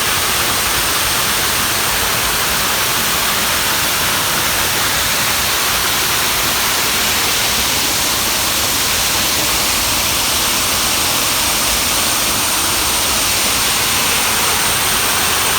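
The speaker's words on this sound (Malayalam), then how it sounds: "ഇതാണ് വിലങ്ങാട് വെള്ളച്ചാട്ടം." Vilangad waterfall roars as a dense, unbroken rush of falling water, loud and close, with no pauses or other sounds breaking through.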